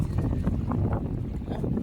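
Strong wind sweeps across a lake while a crew net-fishes from a boat, a low, rough gusting rumble buffeting the microphone, fairly faint and continuous with no voices.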